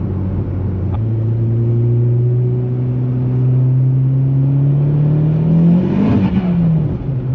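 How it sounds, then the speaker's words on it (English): A Mk4 VW R32 fitted with a GTX3071R turbo revs steadily while the turbo spools, a loud, close engine drone rising in pitch with a whooshing surge near the end. "GTX 30, 71R spool test. She's spooling pretty good."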